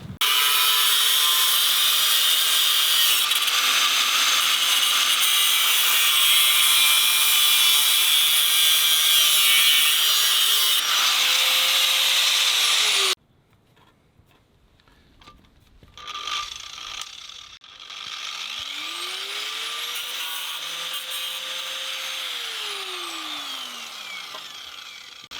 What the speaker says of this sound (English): his angle grinder and we're just going to trim a little bit off that